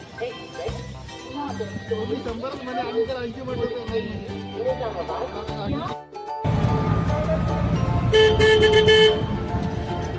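A vehicle horn honks near an auto rickshaw amid busy road traffic, with a loud, sustained blare toward the end after voices chatter over passing engines.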